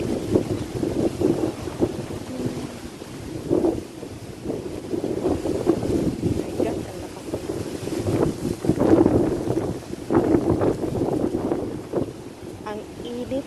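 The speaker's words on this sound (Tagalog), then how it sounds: "Naglalakad ako sa labas guys. Maalikabok sobra. Ang lakas ng hangin" Strong wind gusts roar against the microphone outdoors during a dusty, hot dust storm, a continuous buffeting rush with surging peaks, loud and close throughout.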